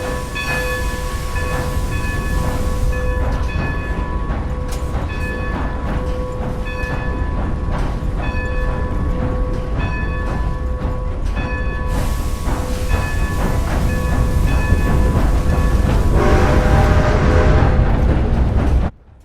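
A train rolls along steadily in Red Dead Redemption 2, a loud continuous rumble with rhythmic clicking and sustained tonal whine, building slightly before cutting off abruptly near the end, with no talk.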